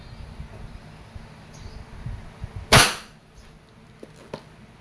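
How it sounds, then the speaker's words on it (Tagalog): A Wingun 708 CO2 airsoft revolver fires one single-action shot, a sharp loud crack with a brief decay, standing out against quiet background noise. "single action, firing."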